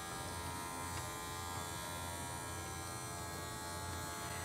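A faint, steady electric buzz and hum comes from the maintenance station pump of a Ricoh Ri 3000/Ri 6000 direct-to-garment printer as it draws suction, continuous and unchanging throughout with no talk.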